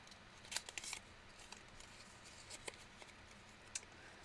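Scissors cut a piece of card paper in half during cardmaking: a quiet cluster of crisp snips early on, then a few sparse, faint clicks, with no one speaking.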